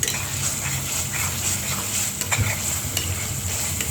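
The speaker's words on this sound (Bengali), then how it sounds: "তো এইভাবে আমি সুন্দর করে মশলাটাকে ভালো মতো কষিয়ে নেব।" Ground spice paste for liver bhuna frying in a pan, a dense continuous sizzle with occasional stirring scrapes, close and fairly loud with nobody talking.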